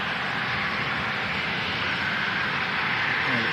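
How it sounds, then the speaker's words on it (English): An EgyptAir jet taxiing past at Manchester Airport, a loud, steady engine roar and broadband whoosh held close and unbroken for the whole stretch, no voices over it. "Egypt Air Just about to taxi past us."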